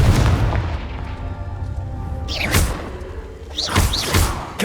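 Confringo blasting spell in the Hogwarts Legacy video game, a few heavy booming explosions with fiery whooshing tails, spaced a second or so apart over a dense rumbling battle background.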